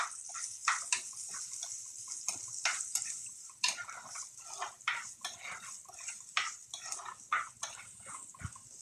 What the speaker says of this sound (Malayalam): ഉള്ളി പീസാക്കി വെച്ചിരിക്കുന്നതാണ്, അതും കൂടി ആഡ് ചെയ്ത് കൊടുക്കാം. ചെറുതായിട്ടൊന്ന് വഴറ്റി കൊടുക്കാം.